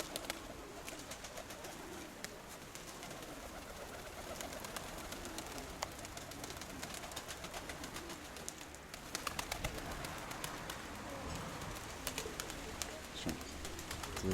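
Pigeons coo softly and repeatedly outdoors, with faint chirps and wing sounds over a steady hiss of background noise; no talk is heard.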